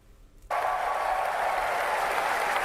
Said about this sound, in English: Why are you applauding this?